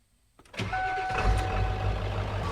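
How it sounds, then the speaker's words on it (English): Ford F350 pickup starting up after a power steering line replacement: silence, a sudden catch as the engine fires, then a steady idle with a thin whine from the power steering pump running above it, close, with no talking. "Pump's working. It's not happy, but it's working."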